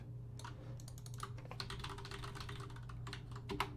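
Typing on a computer keyboard during animation work at a studio desk, a quick run of light, close key clicks in an irregular rhythm over a low steady hum, with no talk.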